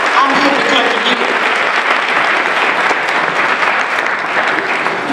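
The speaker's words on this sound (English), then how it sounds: "You owe yourselves a big applause" A large crowd at a Detroit Martin Luther King Day rally for jobs, peace and justice applauds in a dense, continuous wash of clapping with scattered voices, loud and sustained throughout.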